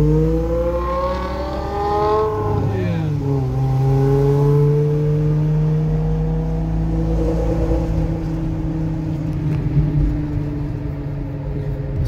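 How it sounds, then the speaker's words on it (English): Stick-shift E60 BMW M5 with aftermarket exhaust tips and muffler delete revving loudly inside a tunnel, its engine note climbing, dipping sharply, then holding a steady high drone that echoes off the walls, with no talking. "Let me ask him to rip it in the tunnel for us."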